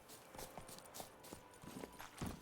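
Horse hooves clip-clop in The Witcher 3 video game, a steady, even trot of quiet, distinct hoof strikes with no talk over them.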